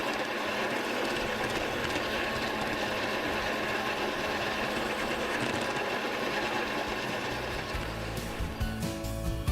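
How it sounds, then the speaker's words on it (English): Small toy trains clatter and whir continuously along a backyard track, a busy rhythmic clicking and motor hum that stays loud from start to finish. "it sure has been a nice day for a train race here in my backyard"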